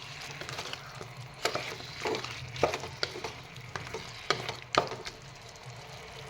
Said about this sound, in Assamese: দি এফালৰ পৰা তলপৰ কৰি পুনৰ লৰাই দিছোঁ